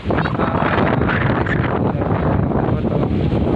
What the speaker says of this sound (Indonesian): kita bisa nikmatin anginnya sangat kencang